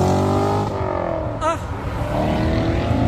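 A Chevrolet Corvette drives past at a Cars and Coffee meet in Luxembourg, its loud engine note sweeping by close to the microphone, with other car noise and crowd chatter around it.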